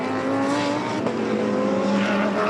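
GT race cars run at the Estoril circuit, their engines roaring loud and sustained with rising and falling pitch as they battle into a corner.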